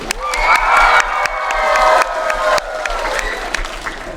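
Loud sustained clapping fills a school hall as an audience at a grades 1–4 playback performance applauds, with cheering and a few shouts rising over the dense, continuous applause.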